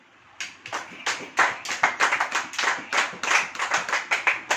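A church congregation claps hands together in a lively, uneven rhythm of many sharp overlapping claps, loud and close, running steadily without speech.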